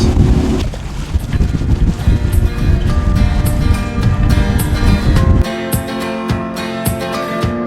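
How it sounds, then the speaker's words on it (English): Steady engine rumble and churning water from speedboats and fishing boats passing nearby on Lake Worth, with wind buffeting the microphone throughout; the low drone shifts and eases toward the end. "the speed boats and fishing boats that are going by us"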